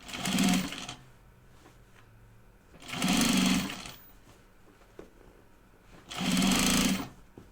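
A sewing machine stitches a chicken-boots project bag in three loud, steady bursts of about a second each, separated by short quiet pauses while the fabric is smoothed and repositioned.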